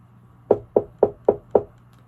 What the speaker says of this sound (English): That's a wood table I just knocked on.